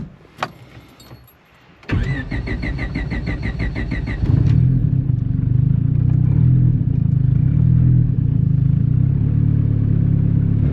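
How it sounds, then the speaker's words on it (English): Turbocharged Honda Civic engine cranks with a whirring starter, catches after a few seconds and settles into a loud, steady run close by. "get the Turbo Civic fired up"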